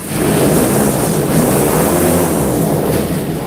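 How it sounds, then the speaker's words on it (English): An airboat with two 350 horsepower engines runs steadily in the Everglades. The engine roar is loud and continuous, mixed with heavy wind rush. "Excalibur was built with two 350 horsepower engines, so depending on which way the wind is blowing, that will reach speeds anywhere from 30 to 40 miles an hour."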